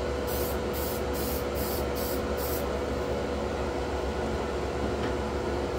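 Airbrush spray painting a 1957 Cadillac Eldorado Brougham model car in a paint booth, a steady hiss with a few short pulsed bursts early on, over the constant whir of the booth fan, with no talking.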